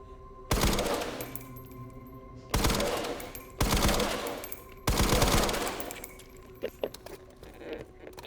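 Gunfire from the Resident Evil Requiem video game: several loud bursts of rapid automatic shots with sharp attacks, separated by short pauses, then a few scattered lighter clicks and clatters near the end.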